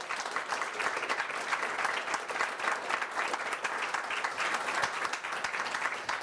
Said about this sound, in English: Please, big applause for Luka Kerecin.